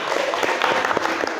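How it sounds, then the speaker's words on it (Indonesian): A classroom full of people clapping steadily, dense and continuous for a short burst, with faint voices mixed in. "Ya betul, tepuk tangan buat Gilang."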